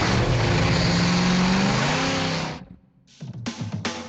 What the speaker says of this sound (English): they'll create that classic muscle car sound and bring new life to your vehicle